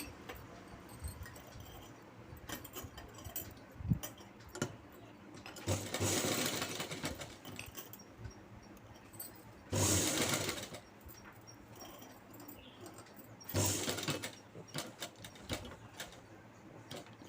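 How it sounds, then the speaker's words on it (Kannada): A sewing machine stitches a double-folded hem on night pants, running in three loud bursts of about two, one and a half, and one and a half seconds, separated by quieter handling and fabric shuffling. "ಈ ಥರ ಡಬಲ್ ಫೋಲ್ಡ್ ಮಾಡಿ ಹೀಗೆ ಸ್ಟಿಚ್ ಹಾಕ್ಕೊಳ್ಳಿ"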